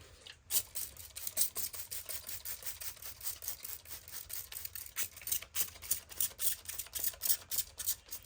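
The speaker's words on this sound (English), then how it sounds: "Just give them a spray." A spray bottle fires rapid repeated squirts of water in a steady rhythm, close up, with no talking.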